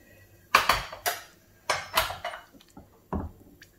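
A metal spoon strikes soft, well-cooked meat in a pot for haleem, giving several sharp clinks and knocks in an irregular rhythm, close and fairly loud, with no talking.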